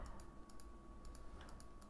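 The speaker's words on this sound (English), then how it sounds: "So press the comma on your keyboard." Typing on a computer keyboard during math homework, a quick run of light, irregular key clicks close by with a steady faint background hum and no talking.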